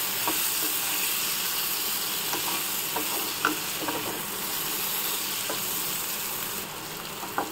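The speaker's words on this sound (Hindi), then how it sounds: "बहुत अच्छे से फुल फ्लेम पे हम इसे सिर्फ फ्राई करेंगे" Stuffed lotus stem fries over a full flame, producing a dense, continuous hissing sizzle, close and fairly loud, with occasional soft stirring knocks.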